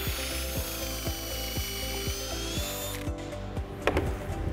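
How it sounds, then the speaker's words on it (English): A power drill whirs steadily, close by, drilling pocket holes in wood for a bench, with a regular ticking click about twice a second; the motor winds down near the end. "We're gonna drill two pocket holes."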